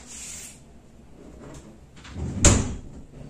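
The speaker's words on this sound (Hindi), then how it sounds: "आराम से दरवाजा खुलेगा।" A household door opens with a soft latch click and a brief swing, one clear sound standing alone in a quiet room with faint background noise.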